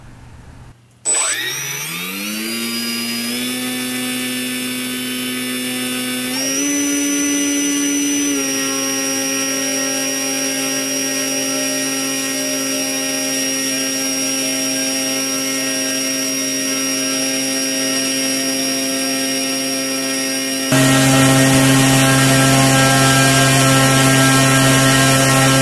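An electric aircraft motor on a bench with an APM 2.6 flight controller throttles up to about 10 amps: a loud, steady whine that climbs in steps after spin-up, then holds, with a burst of broadband air noise near the end.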